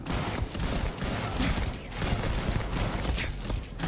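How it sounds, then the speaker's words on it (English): Sustained in-game gunfire from a shootout in Starfield, with dense rapid shots crackling continuously at steady loudness for several seconds and no pauses. "even the fucking the person at the front counter is shooting at me"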